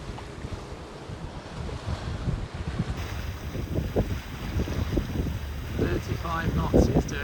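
A fast ferry running at 35 knots as heard from a sailboat at sea, with a rushing wash of water and wind gusting over the microphone, growing louder toward the end.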